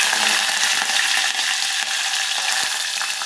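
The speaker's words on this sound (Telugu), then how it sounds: "కరివేపాకు వేసుకుందాం." Curry leaves hit hot oil with spluttering mustard-seed tempering for a beans masala curry, giving a loud, steady broadband sizzle that crackles throughout with no voices.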